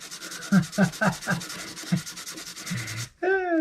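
Wood is hand sanded for an alchemist cabinet indoors: a close series of rhythmic rubbing strokes, roughly eight quick scrapes, followed by a brief pause and a short higher squeak at the end.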